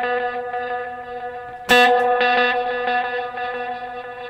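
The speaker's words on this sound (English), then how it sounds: "really crank up the reverb and set a ping pong scattered sort of delay sound" Clean electric guitar notes ring out, then a bright strummed chord blooms with heavy reverb and bouncing delay repeats trailing away.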